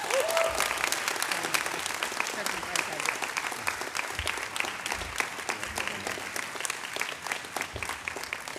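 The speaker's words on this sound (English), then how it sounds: "how about one more round of applause for these extraordinary, amazing, phenomenal student leaders" An audience at the University of Maryland student leadership awards claps steadily and densely for over eight seconds, with brief voices and cheers mixed into the applause.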